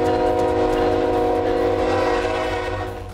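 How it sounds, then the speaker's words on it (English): Train in Claremore sounding a loud sustained horn chord as it passes close by, the blast holding steady then fading slightly at the end. "blaring horns and loud trains, disrupting the way of life for people in Claremore"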